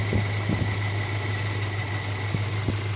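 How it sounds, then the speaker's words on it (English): A 1969 Dodge Dart GT engine idling rough after nearly twelve years sitting, with a steady low hum, a faint whine and irregular stumbling thumps every half second or so, close and loud with no talking. "it's starting to run a little rough here"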